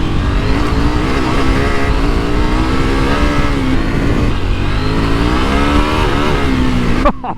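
A close, loud 2023 KTM 890 Adventure motorcycle engine drones steadily, its pitch rising and falling as the rider works the throttle.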